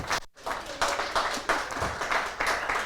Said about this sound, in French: Donc vous pouvez applaudir